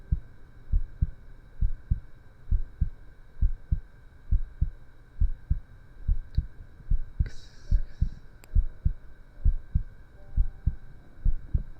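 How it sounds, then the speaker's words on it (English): Steady heartbeat sound effect playing during an ASMR live stream, regular paired thumps repeating close and clear over a faint hum, with a brief soft rustle partway through. "The heartbeat sound is only on the left side."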